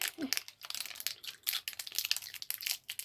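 Crinkly plastic wrapper on a biscuit-and-ice-cream treat being torn open up close, a steady run of sharp rustles and crackles with a brief voice at the start.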